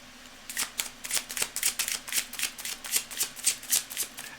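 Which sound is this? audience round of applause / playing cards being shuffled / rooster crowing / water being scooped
playing cards being shuffled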